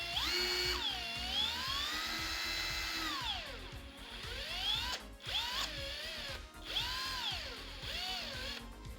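A Hercules cordless impact gun with a 5 amp-hour battery works on car lug nuts, its motor whirring and swooping up and down in pitch in several loud bursts, close and with no talking.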